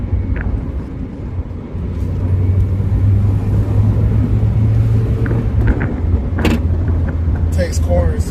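Engine of a Mazda NA Miata drones steadily from inside the cabin while driving, a low continuous hum that swells slightly as it gets under way, with someone talking over it throughout.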